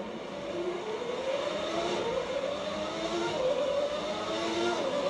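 Video-game 1991 McLaren F1 car racing at the Austrian Grand Prix, with a thin, whining engine note rising and shifting in pitch through a corner at moderate level, steady throughout and without voices.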